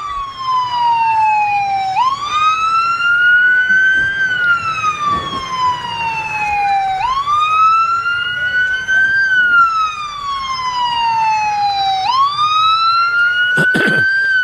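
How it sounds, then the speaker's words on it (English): Fire rescue vehicle sirens at a Christmas parade in Oak Ridge wail in long rising and falling sweeps, loud and continuous, with a faint road rumble underneath and no talking. "as you can hear from the sirens, we have Roane County Fire Rescue coming up around the corner"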